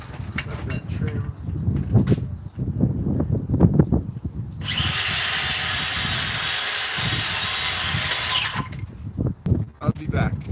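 Circular skill saw cutting baseboard trim, a loud steady whine lasting about four seconds close up, with someone talking before and after the cut.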